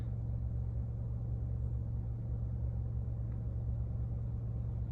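A 2021 Toyota Camry XSE cruises along an empty road, heard from inside as a steady low road rumble and engine drone at even level, with no talking.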